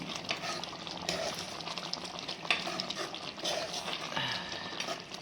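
Chicken curry with cinnamon and cloves is stirred and mixed in a pan, steady scraping and sloshing over a constant low sizzle, close and moderately loud, with no talking.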